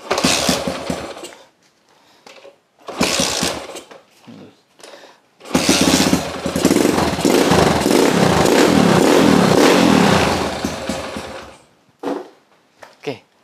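A carbureted motorcycle with ignition trouble that is hard to start runs with the throttle untouched: loud engine bursts come and go between pauses, then it holds a steady, clattering idle for several seconds, with brief talk nearby.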